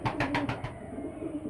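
Andhra pigeons in a breeding loft give a quick series of close, soft coos at the start, about five pulsing notes, then settle into quieter murmuring with low background hum.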